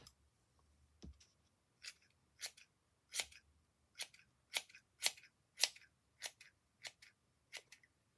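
Scissors snip through macrame doll hair cord in a steady series of about a dozen crisp, close cuts, one every half second or so after a quiet start.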